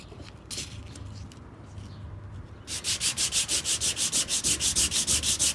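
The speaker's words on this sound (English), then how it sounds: "You putting pressure on this and this, but you letting it sand that down at the same time" Sandpaper is rubbed by hand over a car body panel, first in soft irregular scrapes, then in a fast regular back-and-forth rhythm of about a dozen loud, close strokes.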